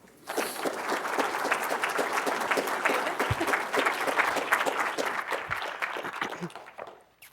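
An audience claps warmly to welcome speaker Ellyn McColgan, a dense, sustained round of applause that rises quickly, holds steady for several seconds, then tapers off, with no talking over it.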